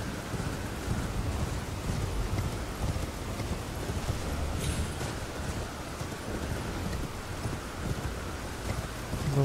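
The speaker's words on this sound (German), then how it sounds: "jetzt regnet es auch mal" Rain patters constantly in the video game Elden Ring, with rumbling thunder-like swells and rhythmic hoofbeats mixed into the steady downpour.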